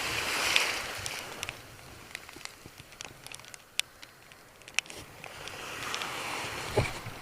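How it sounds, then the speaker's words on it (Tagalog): Sea waves surge and wash around a small fishing spot off Cebu, rising at the start and end, with scattered clicks and knocks from fishing gear in between. "Lakas ng alon."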